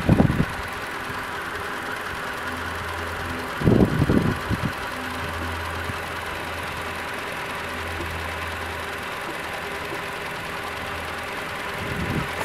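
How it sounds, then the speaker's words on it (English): A Toyota Tacoma engine runs at a steady idle, a constant mid-pitched hum close by, broken by a few brief thumps and knocks. "Here is the engine of my Tacoma."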